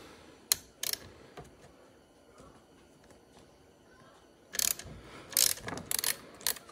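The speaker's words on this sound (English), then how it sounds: "What you would do is you remove this bolt." Metallic ratcheting clicks from a wrench loosening a mounting bolt on a CFMOTO module mount, a few isolated clicks early then a louder burst of rapid ratchet strokes near the end, close and with no talk.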